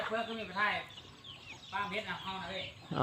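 Chickens cluck in short repeated bursts close by in a rural village, with a voice audible around them.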